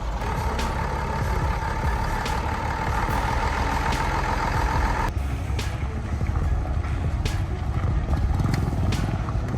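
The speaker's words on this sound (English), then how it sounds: "The engine roared, each throttle pulsed, accompanied by the whirring of the wheels." A big truck engine roars steadily with a whirring of wheels, a dense, loud mechanical drone that runs unbroken throughout, with a few faint sharp ticks and a slight change in tone partway through.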